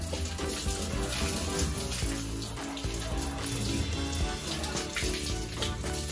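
Running tap water pours steadily while groceries, including produce and plastic packaging, are rinsed under it in a sink, a continuous splashing stream up close.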